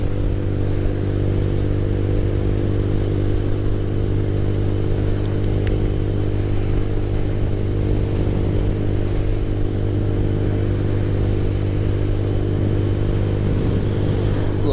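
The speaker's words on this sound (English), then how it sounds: "Little four-wheeler quad," A small four-wheeler quad engine runs steadily near a beach, its low, droning idle holding for about fifteen seconds with only slight swells of revving and no talking.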